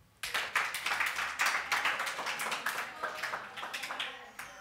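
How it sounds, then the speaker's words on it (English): Church audience clapping for a person, a burst of scattered, uneven handclaps that starts suddenly, stays dense for a few seconds, then thins out and fades near the end. "Please clap for Ella."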